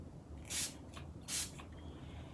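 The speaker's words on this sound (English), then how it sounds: "So now we're just going to spray it with water." Two short, sharp spritzes of a water spray bottle onto watercolor pencil work, about a second apart, each a brief airy hiss against a quiet background.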